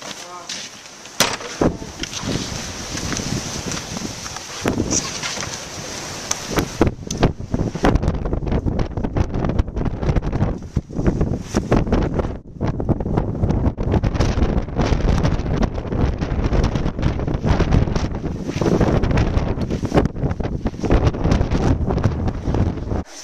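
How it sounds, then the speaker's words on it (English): Strong, cold wind outdoors in Churchill, Manitoba buffets the microphone in loud, gusty bursts, with rustling and flapping throughout and brief pauses between gusts. "That is cold out there. That is windy."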